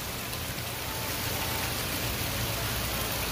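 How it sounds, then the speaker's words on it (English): Rain falls in a steady, dense hiss that stays at an even level throughout, with no voices. "Oh, got some rain. Got some rain."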